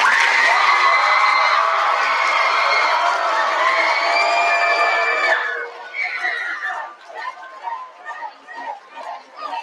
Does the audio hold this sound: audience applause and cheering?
yes